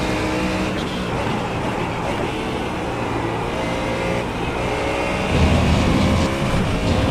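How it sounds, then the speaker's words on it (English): GT3 race cars in a sim racing game at Road America, a constant engine drone with overlapping cars roaring and revving, swelling louder near the end. "Okay, Jesse, there's a car exiting the Russ pits."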